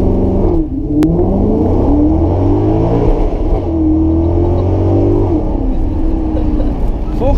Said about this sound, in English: you just want to keep revving up the engine all the time